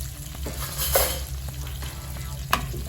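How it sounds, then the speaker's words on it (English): Seabass fillet sizzles in a pan while being basted with a butter, oil and lemon emulsion, a constant close frying hiss with a few soft spoon clicks and one sharper tap near the end. "we're just going to baste our fish with a little bit of our butter and oil and lemon emulsion"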